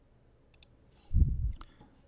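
A computer mouse clicks a couple of times in quick succession while working in bridge design software, followed by a soft dull thump nearby.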